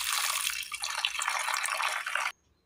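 Water pours steadily into a pressure cooker holding chopped raw plantain, a bright, close splashing stream lasting about two seconds before stopping abruptly into silence.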